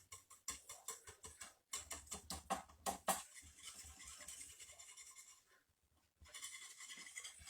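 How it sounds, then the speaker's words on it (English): Four large eggs whisked in a bowl: rapid, rhythmic clicking strokes of the whisk, close and crisp, pausing briefly partway through and again near the end before resuming. "I'm going to whisk this all up."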